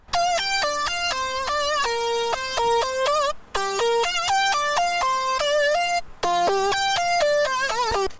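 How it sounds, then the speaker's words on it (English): Bright synth lead preset in FL Studio plays a fast, stepping melody with quick note runs, loud and upfront, in three phrases separated by brief gaps, with no voices. "over here on the turnaround is where he adds the synth lead"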